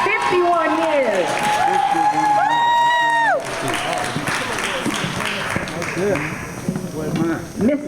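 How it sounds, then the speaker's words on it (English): An audience applauding couples married 50 years and more at a celebration, steady clapping and cheers that continue throughout while a voice speaks over them. "Don't get tired of clapping."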